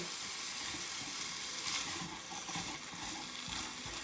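Meat browning in a pan for corn and shrimp soup gives a steady, close, loud sizzle with occasional stirring scrapes, continuous and without talk.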